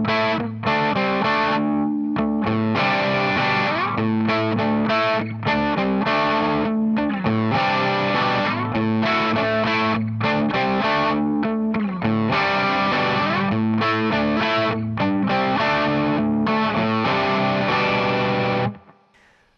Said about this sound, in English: So I'm just bringing my palm down and palm muting a little bit. Also, I'm adding more of just an 8th note